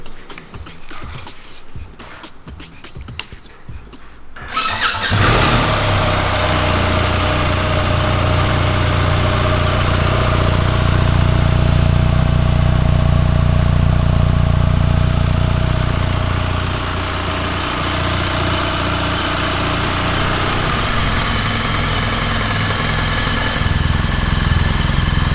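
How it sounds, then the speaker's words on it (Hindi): A BMW R1300 GS adventure touring motorcycle engine starts after a few seconds of handling noise, then idles steadily with a deep, throbbing boxer rumble, loud and close, with a slight dip in revs midway. "जरा हल्की आंच पे इसका एक साउंड टेस्ट करते हैं"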